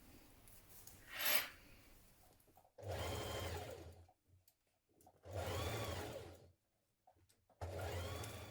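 Sewing machine stitching a sleeve band onto a jumpsuit, running in three or four short bursts of fast, even whirring separated by pauses, close and alone.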